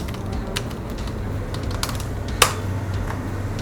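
Keystrokes on a computer keyboard while naming a layer during photo dodge-and-burn editing: a brief run of scattered, light clicks with one sharper tap, close and alone over a quiet room hum.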